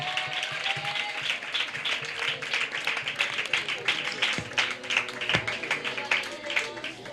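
Applause from a church audience at an evening Christian gathering in India, a dense, steady patter of many hands clapping through the whole stretch at moderate distance, with faint voices underneath.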